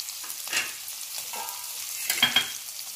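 Curry leaves, boiled peanuts and green peas sautéing in a pan, a soft steady sizzle with a few scraping stirs of a spoon, close up and without speech.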